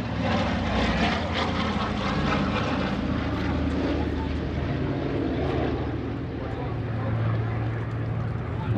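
A Douglas C-47 warbird flies at the 2021 Greenwood Lake airshow, its propeller engines giving a loud, steady, throbbing drone that holds throughout without a break.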